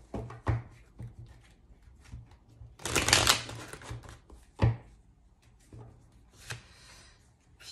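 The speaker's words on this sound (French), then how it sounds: "j'attends de tirer encore 3 cartes." Tarot cards are shuffled and drawn by hand in a quiet room, with a run of soft flicking riffles, one longer dense burst of shuffling in the middle and scattered light taps and slides of cards.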